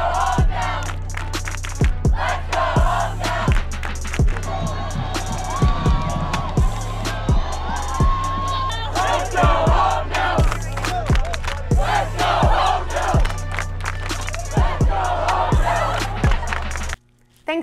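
School crowd in packed stands at a high school game cheers and yells loudly and continuously, with rhythmic heavy thumps throughout and occasional voices cutting through.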